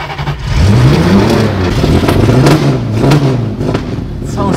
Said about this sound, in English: I will show you how to start the engine